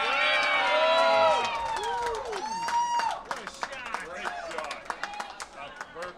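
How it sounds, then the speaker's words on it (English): A curling crowd at a national senior championship bursts into cheers and whoops, then breaks into scattered clapping that thins out, heard close over the arena ambience. "And the crowd loves that one."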